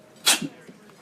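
A single short sneeze, close and fairly loud, followed by faint rustling.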